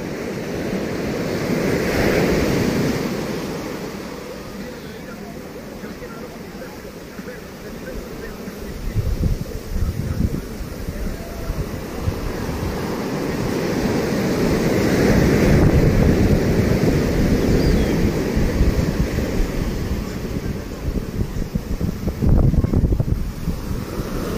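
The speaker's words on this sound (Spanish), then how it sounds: "De repente viene el oleaje, le digo." Ocean surf rolls onto a beach at a port, waves swelling and breaking in slow surges under heavy wind noise on the microphone.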